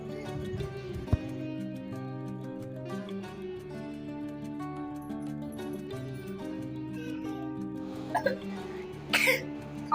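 A person coughs several times, with a throat-clearing bark standing out early, heard over steady music and a few faint sounds near the end.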